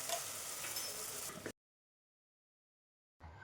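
Masala paste for Kolhapuri misal is sautéed in warm oil until the oil separates, giving a close steady sizzle with stirring. It stops abruptly, goes silent, then the sizzle returns near the end.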